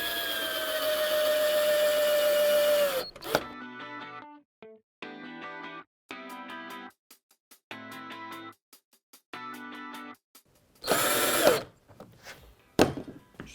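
A power drill drives 4-inch, 5mm-thick screws into a wooden frame for a media wall, with a long whirring run first, then a loud final burst and short trailing zips, with music-like background between.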